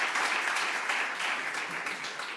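Short burst of audience applause for a composer and musicologist at an alumni gathering, a room full of hands clapping steadily and fading slightly toward the end.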